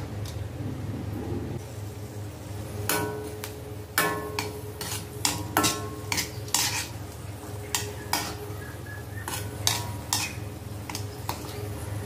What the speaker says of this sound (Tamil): இந்த முந்திரியை போட்டு வறுத்து விட்டுருவோம்.